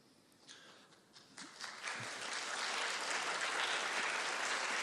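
Audience applause at a Pecha Kucha conference session, starting as scattered claps and swelling within two seconds into full, sustained clapping from a large crowd that stays loud to the end, with no talking.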